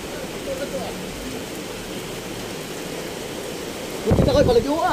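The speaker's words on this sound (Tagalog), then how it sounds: "Naulan man mga kabady." Steady rain hisses outdoors near the sea around a fiberglass boat, a continuous wash of noise that persists throughout, with a brief burst of voice near the end.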